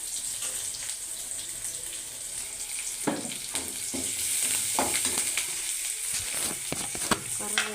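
Sliced onions and curry leaves frying in hot oil in a pan for a banana flower stir-fry, a loud continuous sizzle with scattered stirring scrapes and clinks near the microphone, no talking.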